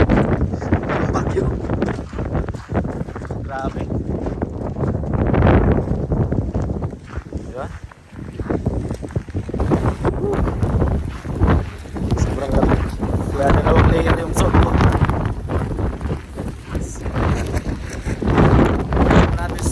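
Strong wind roars and buffets the microphone in continuous gusts outdoors in snowy Saskatoon, Saskatchewan, while a person talks over it.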